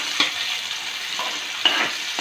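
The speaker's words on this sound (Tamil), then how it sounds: "நல்லா இது கொஞ்சம் கோல்டன் ப்ரௌனாக ஃப்ரை ஆகணும்" Sliced large onions fry in a pan for mutton biryani, cooked toward golden brown; a steady close sizzle runs throughout, broken by three scraping stirs of the spatula, with no talking.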